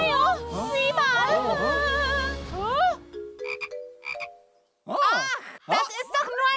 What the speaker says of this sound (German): Ach, das ist doch nur ein kleiner Frosch!